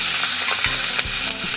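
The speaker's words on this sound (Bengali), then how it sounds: "ভাজা করে নিচ্ছি।" Prawns fry in hot oil with a steady, dense sizzle, while a utensil scrapes and knocks against the pan a few times. The sound is close and continuous, with no voices.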